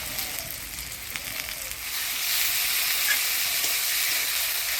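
Ground paste of ginger, garlic, coriander, cumin and chilli frying with tomato in a pan for a taro and rita fish curry, a steady close sizzle that swells louder and denser midway, with faint stirring scrapes.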